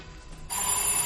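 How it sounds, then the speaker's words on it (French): A telephone rings indoors, a brief electronic trill that starts abruptly partway through and holds steady and fairly loud with a thin, high tone, no voices over it. "ça c'est le téléphone."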